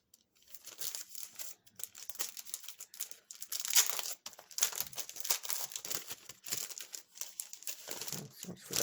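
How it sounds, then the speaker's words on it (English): Tear and tape adhesive being handled and peeled while pockets for a magnetic board kit are assembled, bursts of close crinkling, crackling and peeling rustle in uneven spurts with short pauses. "Here's some tear and tape to put the little pockets together."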